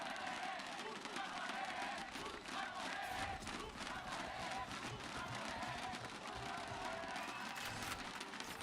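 A big arena crowd at a Valorant Game Changers esports match roars and cheers steadily, a dense wash of many voices throughout with no clear pauses.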